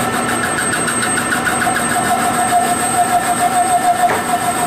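A lathe turns a motorcycle fork tube at 400 RPM under hand feed, giving a steady, close mechanical hum with a thin sustained whine riding on top, unbroken for the whole stretch with no talking.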